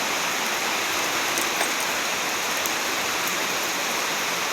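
Rain falls in a steady, dense hiss, close and fairly loud, with no voices.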